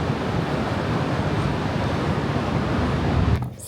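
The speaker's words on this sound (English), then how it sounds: "Oh my gosh, it's so windy." Strong wind buffets the microphone at the seaside in Da Nang, a loud, steady broadband roar with surf-like rushing that drops away abruptly near the end.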